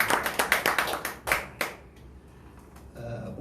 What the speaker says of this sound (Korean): 하나님께 영광 박수 한번 올려주시기 바랍니다.